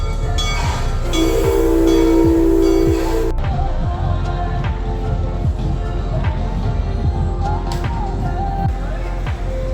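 Rumbling, clattering train-style ride on the River King Mine Train roller coaster at Mid America Adventure in Eureka, Missouri, with a steady loud mechanical roar, metallic clinks and a brief whistle-like tone near the start.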